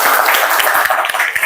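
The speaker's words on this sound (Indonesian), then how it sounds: "Tepuk tangan dulu deh." A small group claps near the microphone at the close of a podcast about a school futsal team, a loud, brisk patter of hands with no talk over it.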